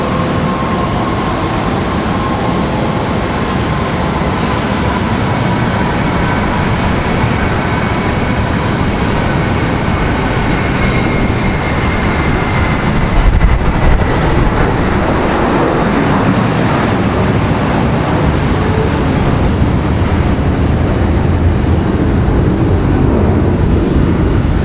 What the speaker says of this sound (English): we got American headed to Charlotte in this A321. It's going to be our next departure here